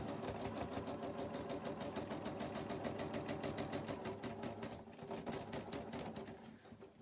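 Home sewing machine stitching a pieced pencil pouch made from 2.5-inch fabric squares. It runs continuously and close, with a fast, even clatter that slows slightly near the end.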